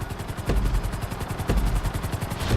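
A helicopter in GTA V flight school runs with a steady pulsing rotor thump and a regular, rhythmic chop under a whining engine tone. It is moderately loud and close, with no voices.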